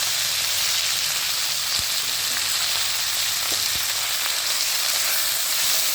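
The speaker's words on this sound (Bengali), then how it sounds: "এবার এর মধ্যে দিয়ে দেব কেটে রাখা পাট শাক" Whole young jute leaves go into dal in a hot pan, giving a loud, steady sizzle that continues throughout, with a few soft pops and clicks and no talking.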